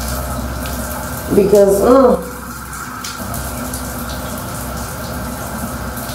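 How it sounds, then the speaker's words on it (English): Shower water runs steadily throughout as a continuous hiss, with someone briefly speaking over it near the start. "let me go shower"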